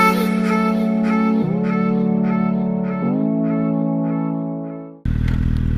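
A Suzuki GSX-S750 naked motorcycle pulls away loudly. Its engine whine climbs through two quick upshifts and then eases off, and a rush of wind noise follows near the end.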